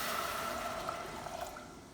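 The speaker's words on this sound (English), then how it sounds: "So I'm going to go ahead and put 2 cups of water in here." Two cups of water pour steadily into a pot of brown rice, a continuous close splashing and trickling that holds at an even level for the whole stretch.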